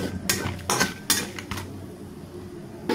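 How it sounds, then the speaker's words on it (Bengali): A spoon stirs and scrapes spices for a spicy chicken roast in a pan, giving a few short clattering knocks and scrapes against the metal close by, followed by a quieter stretch. "এটাকে ভালোভাবে নাড়া দেব। এটাকে ভালোভাবে ভেজে নিতে হবে"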